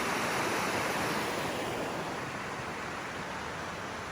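A river in the Ordesa Valley rushing beneath a footbridge, a dense, steady roar of flowing water that stays loud and unbroken throughout, with no voices.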